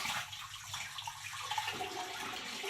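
Pomfret fish being washed under running water, a steady close faucet stream splashing for the whole stretch with no talk.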